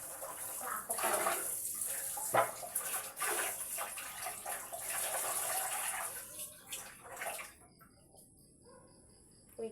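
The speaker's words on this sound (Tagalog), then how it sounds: "hugasan ko muna tiil ko" Tap water runs steadily into a basin or tub while feet are being washed, a broad continuous splashing hiss that cuts off near the end, leaving near-quiet with a faint high electronic tone.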